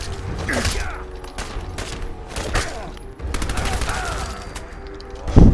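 Sustained automatic weapon fire in Fallout 4, loud, close bursts rattling on for several seconds, with brief dips between volleys and a heavy thump at the very end.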